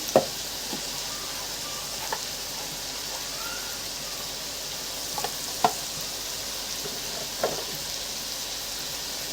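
Salt, red chili and turmeric frying in a pan for an aloo gobhi curry: a steady soft sizzle with a few sharp clinks and scrapes of a spoon stirring, no talking.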